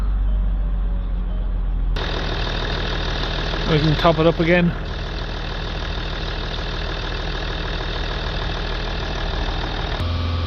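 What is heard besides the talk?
Range Rover 3.0 engine started and idling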